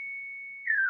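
A Pure Data oscillator emits a clean, steady sine tone for most of a second, then the pitch bends downward into a brief sweep just before it cuts off. It sounds close and alone, with no voices.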